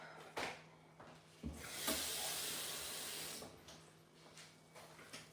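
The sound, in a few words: water running from a tap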